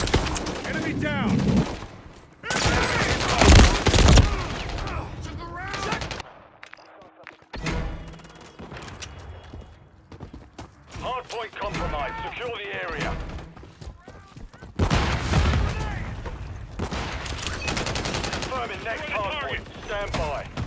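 Gunfire in the video game Modern Warfare III, repeated loud bursts and volleys of shots with quieter gaps between, mixed with game voices and battlefield effects.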